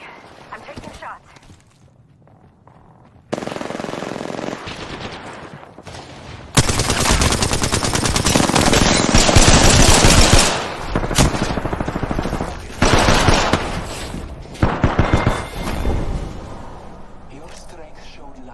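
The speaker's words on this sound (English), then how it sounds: "They spotted me. I'm taking shots." Gunfire in the video game Apex Legends, with loud bursts of rapid automatic shots and sharp cracks filling most of the stretch after a quieter start, mixed with game sounds.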